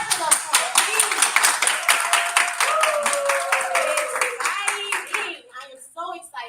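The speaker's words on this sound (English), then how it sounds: "Y'all clap it up for it, please." Applause rings out for an elementary school drama club, dense and lively hand clapping from an audience with children's voices mixed in, fading out at the end.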